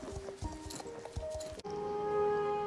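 Hooves of a Mustang horse clip-clop at a walk in the Star Stable video game, a quick run of close, regular taps that gives way to a steady tonal in-game music bed.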